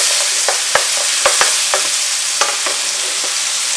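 Quorn pieces for a jalfrezi sizzle steadily in a hot pan, a dense continuous hiss punctuated by several sharp clicks and scrapes of stirring, close and loud with no voices.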